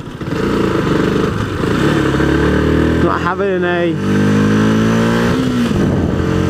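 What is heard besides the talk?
motorcycle engine and exhaust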